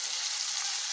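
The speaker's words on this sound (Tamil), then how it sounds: "இப்போ கட் பண்ணி வச்சுருக்க தக்காளி சேர்த்து வதக்கிக்கலாங்க இதெல்லாம் இப்ப நல்லா வதங்கணும்" Chopped tomatoes and pirandai sautéing in a pan, a brief, steady hissing sizzle, moderately loud with no talk.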